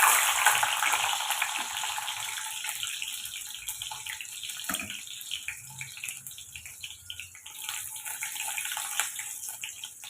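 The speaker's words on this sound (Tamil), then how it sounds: "பூண்டை லைட்டாக கொஞ்சம் எண்ணெயில் வதக்கி எடுத்துக்கோங்க." Garlic cloves frying lightly in oil in a kadai with fenugreek seeds, a steady hissing sizzle that is loudest at the start and eases slightly, with a few soft stirring scrapes, close by and with no talking.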